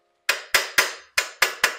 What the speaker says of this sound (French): Vous pouvez même donner un petit coup de marteau pour être sûr